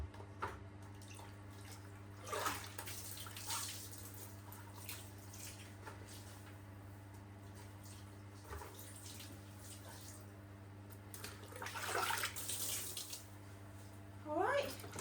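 Running water rinses a greyhound in a bath, with a steady tap stream, intermittent splashes and pouring bursts, all fairly quiet against a constant low hum.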